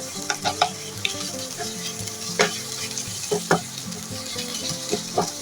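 Red amaranth greens with poppy seeds and fried peanuts sizzle steadily in a pan while a spatula scrapes and stirs in sharp, irregular clinks, close and clear.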